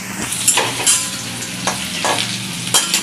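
Steady sizzling of thickly sliced onions frying in a hot pan, with occasional stirring scrapes and light clinks, no talking.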